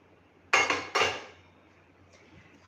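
Roasted fennel, ajwain and cumin seeds are tipped into a mixer jar in two quick, rattling clatters close by, fading out into near silence.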